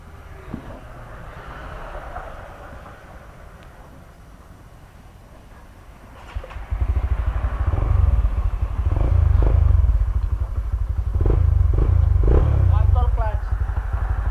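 A stock-engine Honda GTR 150 FI motorcycle on a top-speed run: after a quieter opening, a loud steady engine drone rises and holds under wind roar, with brief rev changes as gears shift, and a rider speaking over it.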